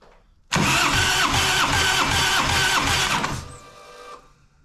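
A Harley-Davidson Evo engine cranks over steadily on the starter for about three seconds during a compression test, with a loud, even, rhythmic chugging that stops abruptly, followed by a brief quiet tail.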